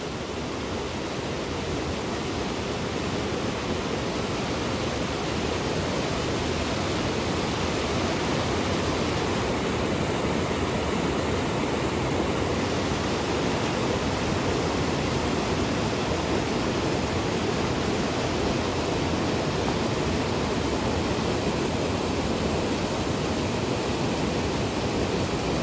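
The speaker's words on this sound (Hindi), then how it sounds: "अब कुछ देर सिर्फ आवाज़ सुनते रहिए, दोनों का, कुब्जा का और माता नर्मदा जी का आवाज़ सुनते रहिए।" Flowing water where the Kubja and Narmada rivers meet, a steady, dense rushing roar that stays even and continuous throughout, with no one talking.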